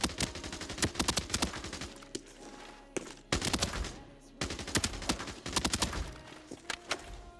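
Rapid bursts of low-recoil gunfire from a video game rifle rattle in quick repeated volleys with brief pauses between them, loud and close, with almost no talking.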